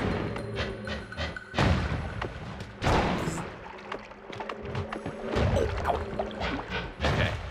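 Rocket explosions in the pixel-physics roguelike Noita, a dense run of booming blasts and crackling debris at close range, with sharp louder bursts near the start, middle and end and no talk.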